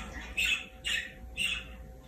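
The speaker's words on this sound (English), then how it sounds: "You didn't go into the room with the birds." Pet birds squawk indoors in three harsh, evenly spaced calls, fairly near, over a low steady household hum.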